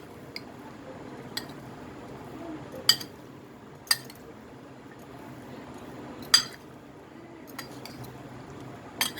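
Aloo chaat being mixed in a bowl: soft wet squishing under sharp, scattered clinks of a spoon striking the bowl, about six distinct knocks spread across the stretch, close and fairly quiet.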